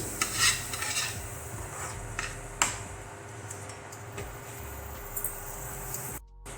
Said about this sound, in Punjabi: ਗਰਮ ਮਸਾਲਾ ਚੂਰ ਪਾਊਡਰ ਮਿਕਸ ਕਰ ਦਵਾਂਗੇ ਤੜਕੇ ਦੇ ਵਿੱਚ